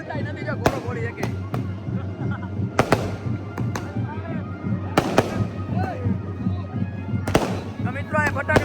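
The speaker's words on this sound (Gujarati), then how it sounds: "અહીંયા ફટાકડા ફૂટે" Firecrackers burst at a wedding procession where a decorated mare stands waiting. Several sharp, loud bangs go off at irregular intervals over a steady crowd hubbub, with people talking throughout.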